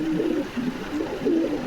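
Fancy pigeons at a pigeon farm give soft, low, throaty coos in a few repeated rolling phrases, close by and calm, over light background noise.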